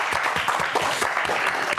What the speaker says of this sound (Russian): Ну так вперед, под бурные аплодисменты!